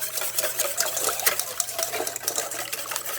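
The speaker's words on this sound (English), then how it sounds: "and then I'm just going to whisk it." Six eggs with a splash of heavy cream are whisked by hand in a bowl, a steady run of light, quick clicking and sloshing strokes at close range with no talking.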